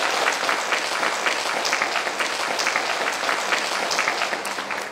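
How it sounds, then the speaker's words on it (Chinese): A group of restaurant staff claps steadily to welcome a new waitress, a dense patter of many hands, close and even for several seconds before tapering slightly at the end. "大家鼓掌欢迎"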